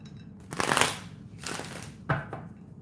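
A deck of cards is shuffled for a card reading in three quick riffling bursts, each a crisp, papery flutter close by, separated by short pauses; no talk.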